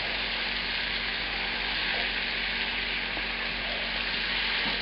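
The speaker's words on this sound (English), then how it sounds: "scrape up any bits off the bottom of the pan." Mushrooms sizzle steadily in a hot pan on medium-high heat, a constant close frying hiss with faint scraping of browned bits off the pan bottom.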